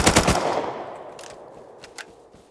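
A rapid burst of gunfire in the game Rust, several sharp shots in quick succession, followed by a few scattered fainter shots as it trails off.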